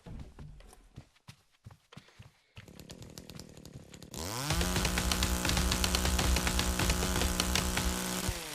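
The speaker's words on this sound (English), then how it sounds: "Chainsaw just doesn't do much, but does everything at the same time." A chainsaw in a tree-chopping video game revs up and cuts steadily through trees, loud and sustained after a few scattered footsteps and thuds at the start.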